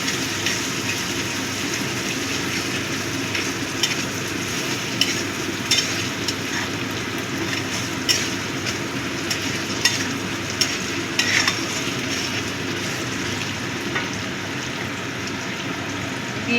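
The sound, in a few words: stirring and mixing chana masala in a pan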